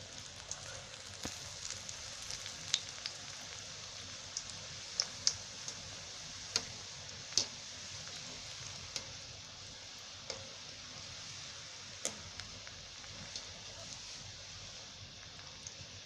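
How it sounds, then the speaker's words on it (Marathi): Dahi vada lentil dumplings fry in oil over low gas, producing a quiet, fine sizzle broken by scattered sharp pops and crackles at irregular moments. "तळताना कसं सोडताना जरा गॅस बारीक करायचा."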